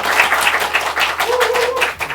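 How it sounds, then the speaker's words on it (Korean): An audience at a book concert claps to welcome a novelist to the stage, dense close clapping that fills the entire moment while a voice hums faintly beneath it. "박수로 맞이해주시기 바랍니다."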